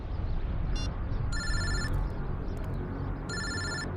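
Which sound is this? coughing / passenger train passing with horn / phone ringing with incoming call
phone ringing with incoming call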